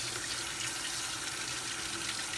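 Tap water runs steadily into a sink as thin-skinned garlic cloves are washed, a continuous close hiss with no pauses.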